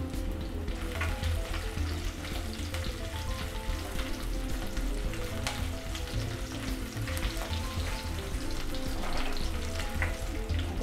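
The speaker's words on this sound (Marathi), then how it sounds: "लसणाचा कलर बदलला की आपण आता यामध्ये मिरची टाकून घेऊ।" Green chilli pieces and garlic sizzle and fry steadily in hot oil in a pan for a Marathi everyday vegetable recipe, a continuous close crackle with occasional stirring scrapes and no talk.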